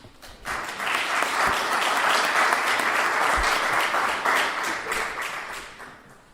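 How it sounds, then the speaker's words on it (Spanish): Audience at a Spanish talk applauds a speaker being introduced, a full, sustained burst of many hands clapping that swells quickly and stays steady for about six seconds before easing off. "lo único que os pido es un fuerte aplauso para él"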